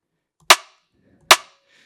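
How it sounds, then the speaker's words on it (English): A dry, unprocessed snare drum sample hits twice, each a sharp, bright crack with a quick decay, spaced under a second apart against near silence. "this is just a simple snare sound that I found from somewhere"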